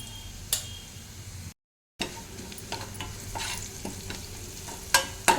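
Onions and green chillies frying with curry leaves and turmeric in a pan while making a broad bean fry, with a soft steady sizzle, a brief gap, and occasional sharp taps of a stirring spoon.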